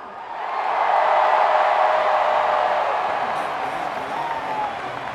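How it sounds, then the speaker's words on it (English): Sustained crowd applause and cheering for head coach Steve Spurrier at the Florida Field dedication, a broad, loud wash swelling in after a brief quiet and holding steady, easing slightly near the end. "one more round of applause for our head ball coach, Steve"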